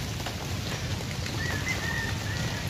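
Light drizzle falls before a typhoon as a soft, steady patter of raindrops, with faint bird coos and chirps in the background and no talk.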